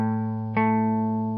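A distorted electric guitar octave is picked and rings steadily, then a second pick attack restrikes it partway through and it sustains strongly until it cuts off, with no talking.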